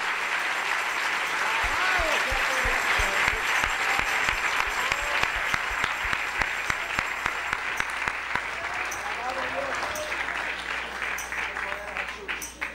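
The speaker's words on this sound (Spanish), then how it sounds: "Dale un aplauso a Jesús esta noche." A congregation claps loudly and steadily at a Spanish-language evangelical church service, dense sustained applause filling the room with voices mixed in.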